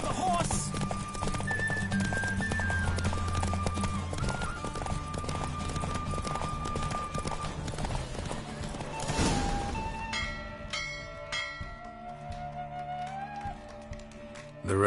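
A horse gallops in The Witcher 3 during a race through Velen, with steady rapid hoofbeats continuing throughout alongside game music and effects, loud and close.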